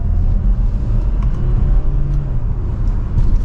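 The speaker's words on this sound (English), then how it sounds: "and we'll give it a small acceleration" A 2025 Kia Sportage Hybrid X Line Prestige in sport mode, shifted with paddle shifters, gives a brief low engine rumble that swells gently as it accelerates, heard from inside the cabin with no voices.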